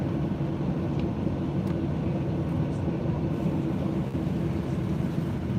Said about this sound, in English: They're de-icing the plane.